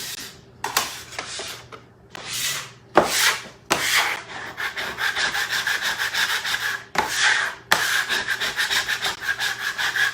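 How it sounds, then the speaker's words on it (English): A wooden cutting board being scraped clean in a home kitchen after making pappardelle and Bolognese, with repeated rasping strokes in uneven bursts, close and fairly loud, with no talking. "I love scraping the board."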